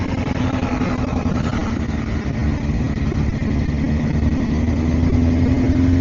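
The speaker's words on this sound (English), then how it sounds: "They're pulling tractors." Heavy tractor engines at a tractor pull at a farm show make a steady, dense, loud roar in the distance that holds for the whole span, with no talk over it.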